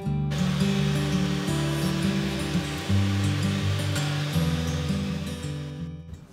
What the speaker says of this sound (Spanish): Licuaremos hasta que veamos que los ingredientes se han integrado completamente y no le queden grumos